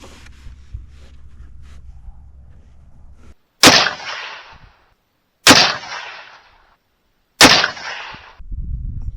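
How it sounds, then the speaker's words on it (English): Three loud, close rifle shots from a rifle fitted with an EC Tuner muzzle brake, fired as a group and spaced about two seconds apart, each a sharp blast with a short decaying echo after a quiet lead-in. "shoot our third group of 3 at number 2"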